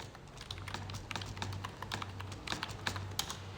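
A GST number is typed on a computer keyboard with a quick, uneven run of close, crisp key clicks over a faint low background hum.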